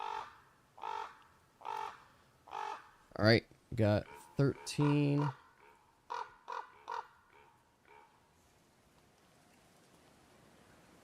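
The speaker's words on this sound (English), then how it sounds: "You guys are going to hear the sounds of these magnificent birds" Loud crow-like caws played as sound effects at a tabletop role-playing game session, a run of harsh rhythmic calls that build to a burst of raucous squawks before trailing off, with players talking briefly over them.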